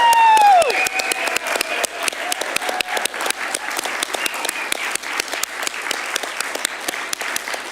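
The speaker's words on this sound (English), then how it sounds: "let's give her one last big round of applause" A crowd at a celebration of life memorial gives one last big round of applause, loud and dense clapping with scattered sharp claps. A brief tone or whistle sounds at the very start.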